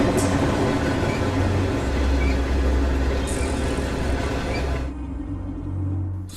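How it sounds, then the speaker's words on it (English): High-speed train rushing past at close range, a loud continuous rumble and rolling roar that holds steady, then eases into a lower drone as the passage ends. "Scary high-speed train."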